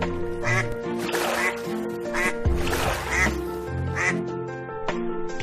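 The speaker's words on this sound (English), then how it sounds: "You can hear ducklings quacking." Ducklings quack in a series of short bursts over a steady background of soft musical tones, moderately near and clear.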